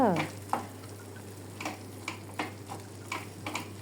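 A spoon stirs red chili chutney into food in a pan, producing soft rhythmic clicks and scrapes over a low steady hum.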